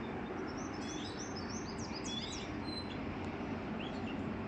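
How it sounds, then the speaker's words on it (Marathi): Birds chirp and twitter in a cluster of quick, high calls on a cloudy rainy-season day, set against a constant low rumble of distant highway traffic. "पक्ष्यांचा आवाज बघा किती छान येतो, भारी वाटतं ऐकायला."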